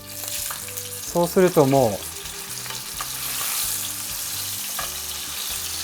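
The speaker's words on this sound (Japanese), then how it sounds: "フライパンをですね大きく使ってあげて、常にこの肉が熱い状態で焼き目をつけていきます" A steak made from supermarket meat sears in a frying pan with a steady, close sizzle and crackle throughout. A short burst of talk is heard near the start.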